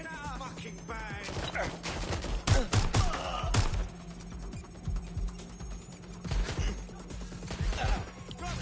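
Gunfire in the video game Watch Dogs: Legion, with sharp bursts of shots and impacts ringing out amid a steady in-game background hum, moderately faint, with a few loud cracks clustered in the middle.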